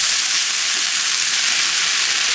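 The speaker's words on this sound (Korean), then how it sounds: "골고루 볶아 색이 변하면" Cumin seeds with a pinch of salt stir-fried in a hot pan, giving a steady, bright sizzle that holds evenly close by with no break or voice.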